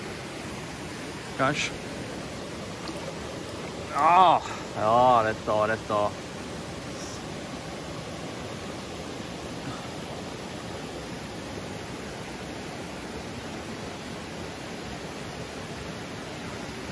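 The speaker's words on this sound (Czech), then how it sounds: "Voda." A stream flows with a constant broadband rush of water that carries on evenly throughout, while a person speaks briefly and there are a few short vocal sounds early on.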